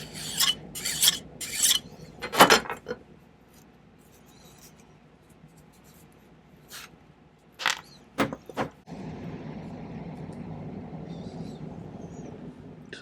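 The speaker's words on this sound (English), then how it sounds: "let's cool that off and file it a little bit, see how it looks" A hand file rasps against a silver ruby step ring in short bursts of scraping strokes, followed by quiet pauses and then a steady faint mechanical hum.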